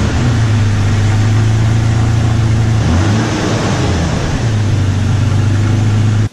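Stock exhaust on a Toyota Tacoma mid-size pickup, a steady loud engine drone rising in a rev near the three-second mark, then settling back to an even hum, heard alone.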